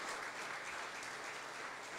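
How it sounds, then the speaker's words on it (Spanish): A church congregation claps together in sustained, even applause, a dense wash of hands filling the room at moderate volume with no voices on top. "Denle un aplauso a Jesús."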